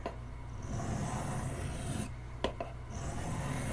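A Camillus electrician's knife is sharpened and its bevels ground, producing a continuous close rasping rub that breaks briefly with a sharp tick and short pauses before the scraping resumes.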